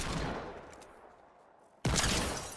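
A burst of video game gunfire cuts off after a short moment; a quieter stretch follows, then another sudden loud volley of shots, with no talking.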